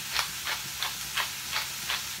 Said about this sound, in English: grinding of pepper.